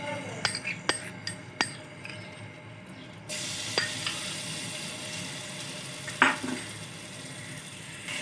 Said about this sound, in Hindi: अब इसमें 2 टेबलस्पून भर के लहसुन अदरक का पेस्ट जाएगा।